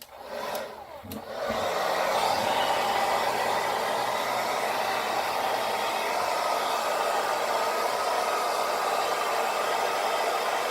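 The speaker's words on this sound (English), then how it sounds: "I'm just going to pretty much just blow dry and pull down to do that." Hair dryer blow drying a beard: a click, a brief start-up, then a loud steady whoosh and motor hum held close and unbroken for about nine seconds, with no talking.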